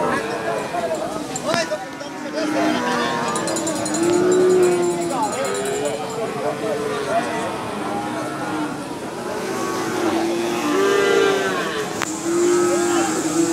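Australian cattle at a busy village cow market moo repeatedly in drawn-out calls, with several animals lowing over steady crowd chatter and nearby talk.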